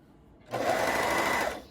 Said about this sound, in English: I will readjust quite often to make sure that I'm not serging my garment